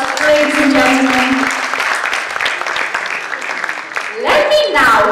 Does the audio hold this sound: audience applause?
yes